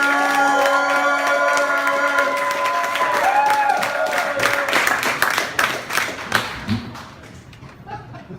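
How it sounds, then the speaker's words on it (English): Audience at a comedy club show at Neck of the Woods in San Francisco breaking into applause and cheering for a comedian, a dense crowd wash that thins into scattered individual claps toward the end, with background chatter and music. "Start clapping right now for Joseph Richard."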